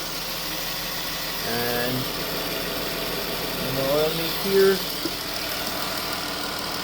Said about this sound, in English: Here we go. Got the engine running,